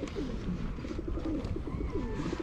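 Several pigeons coo steadily and close by, their low, throaty calls overlapping in a continuous murmur.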